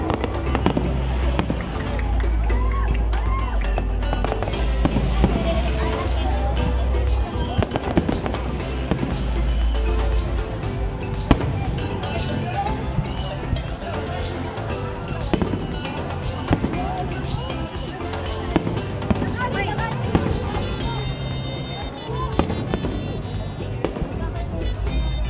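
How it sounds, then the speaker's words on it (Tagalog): Fireworks burst continuously at an outdoor band concert on Rio Boulevard in Cagayan de Oro, Philippines, with dense crackling and booms mixed with crowd noise and nearby voices talking. "Start na po yung paputok ngayon."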